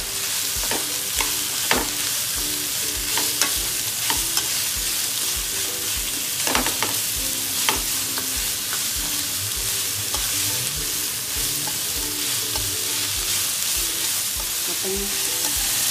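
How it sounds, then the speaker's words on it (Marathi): Chopped onion and capsicum sauté in a hot pan for a prawn chilli dish, with a steady sizzle and frequent spatula stirring clicks close by throughout. "आपण शिमला मिरची आणि कांदा परतून घेणार आहोत."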